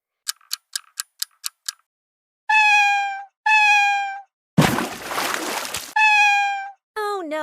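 Cartoon kitten in a children's Christmas nursery-rhyme game, with a quick run of ticking clicks, then several loud, clear synthetic meows separated by a splashy whoosh, and one final short meow.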